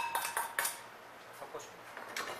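Quiet kitchen clatter of a utensil working dumpling filling of meat with chives and green onion in a bowl: a few sharp scrapes and clinks near the start, then lighter scattered taps.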